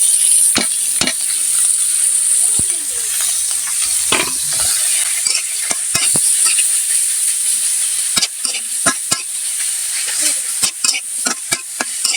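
Leafy greens (shak) with garlic and chilli sizzling loudly in a pan over a wood fire, a constant bright hiss broken by repeated sharp scrapes and knocks of stirring.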